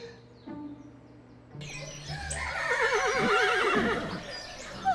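A horse whinnies in a stable at morning feeding time, a wavering, fairly close neigh rising in the middle of the clip over a quiet room tone, with faint bird chirps around it.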